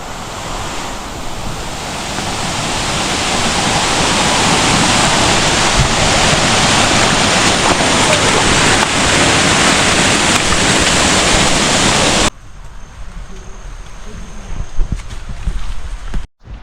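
A small waterfall on the Bhimashankar trek sends up a steady, loud rush of falling water that holds for about twelve seconds, then cuts off sharply to a much quieter outdoor background with a few faint knocks.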